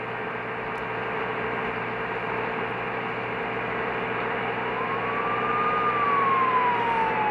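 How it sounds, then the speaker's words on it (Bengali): A police car siren on a rainy road, heard from a fast-moving intercity bus. It swells and glides upward in pitch late in the clip, over a steady roar of engine and road noise. "পুলিশের গাড়ি হর্ন দিতেছে, মনে হয় কোনো আসামির পিছনে দৌড়াচ্ছে"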